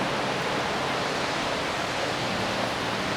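A waterfall near Dalat, Vietnam roars as a steady, dense rush of falling water, loud and continuous throughout with no voices over it.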